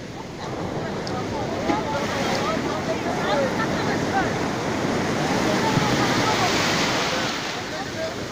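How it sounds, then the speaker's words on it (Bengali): Sea waves roll and wash onto Puri beach in a steady surf roar with wind buffeting the microphone throughout. "এই যে জল ঢেউটা নিয়ে কেমন আছে, ঢেউয়ের সাহায্য নিয়ে উঠছে, দেখেছিস?"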